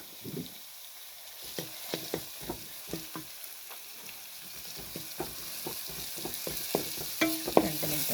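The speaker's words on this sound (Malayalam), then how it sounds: "അപ്പോൾ ഇതും കൂടി ഇട്ടിട്ട് നന്നായി മൂപ്പിക്കണം" Crushed ginger, green chilli, garlic and shallots frying with onion in a pan, a soft hiss punctuated by a regular series of sharp spatula taps and scrapes, growing busier toward the end.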